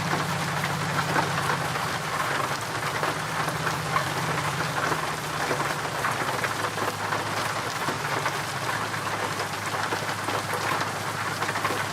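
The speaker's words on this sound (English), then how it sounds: "Oh, that rain. Holy crap. It's loud." Heavy rain pounds a surface in a steady, loud, unbroken roar with a faint low rumble underneath, close by and with no voices.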